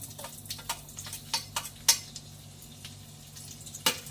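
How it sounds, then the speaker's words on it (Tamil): Cashew nuts fry in a pan for cauliflower pulao, giving a soft, continuous sizzle with scattered clicks and clinks from stirring against the metal, faint and steady with no voices. "முந்திரி பருப்பு நல்லா வறுபடட்டும்"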